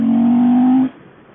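A 1997 Ducati Monster 900 motorcycle engine drones with a steady, close, loud low tone that cuts off abruptly partway through.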